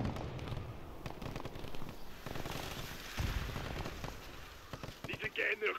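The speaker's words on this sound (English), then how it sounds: "Taking enemy fire." Gunfire in Call of Duty Modern Warfare 3 at the far side of a mill, with scattered shots and bursts of fire mixed with battle noise under radio-style voices, growing into louder, sharper cracks near the end.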